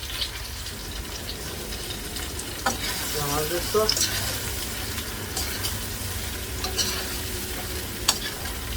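Butter and cassava frying in a pan for a catfish curry meal, giving a low, steady sizzle with occasional stirring clinks and scrapes throughout.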